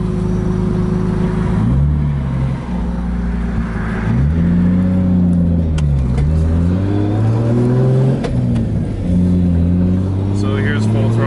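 A 2JZ-swapped Nissan S13 revved hard to full throttle, loud engine notes repeatedly rising and falling in pitch as it pulls and eases off, with someone talking over it.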